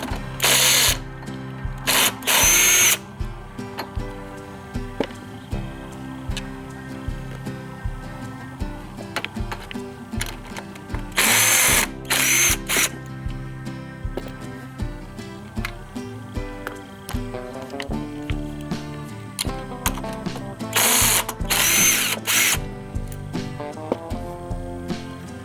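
Power driver backing three screws out of a small plate on a pressure washer, close ratcheting whirs in three bursts, each with a clicking mechanical chatter between, no talking.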